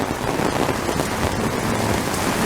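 Heavy rain pours steadily in the Philippines during a dark storm, a dense, constant roar of drops hitting surfaces with no pauses and no speech.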